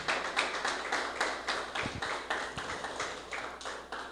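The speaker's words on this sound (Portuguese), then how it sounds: "Vamos aplaudir bem forte a palavra de Deus." A church congregation applauds, a steady run of rhythmic claps repeating about every half second, moderately faint, with a few low thuds mixed in.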